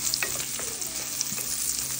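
Beef steak browning in a pan: a loud, close, continuous sizzle with busy crackling and a few stirring scrapes, no voices.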